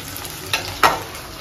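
Chicken curry with potatoes cooking in a pan: a low simmering sizzle broken by two quick scraping stirs of a spoon, the second louder.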